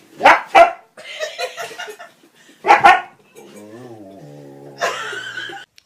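A dog barks in two sharp double bursts separated by pauses, loud and close, with a whining tone and a voice speaking in between.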